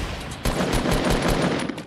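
Rapid submachine gun fire in the video game Fortnite, a loud, dense burst of repeated shots that starts abruptly and continues almost without pause.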